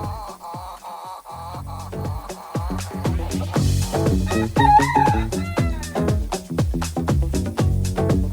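A rooster crows loudly near at hand, with other busy farmyard sounds and clucking filling the background.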